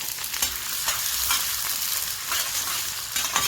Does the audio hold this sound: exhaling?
no